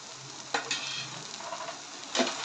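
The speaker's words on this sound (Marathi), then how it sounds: "हे व्यवस्थित परतून घ्यायचं आहे" Sevai upma with coriander being sautéed in a pan: a steady close sizzle with a few short scraping stirs of the spatula, no voices.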